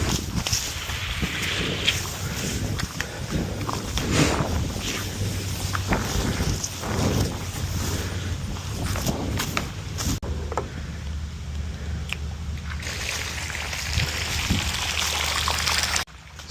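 Water draining from an inground swimming pool through a hose driven by a 2-inch pump, a steady low trickling and gurgling with scattered footsteps and handling clatter, fairly quiet throughout.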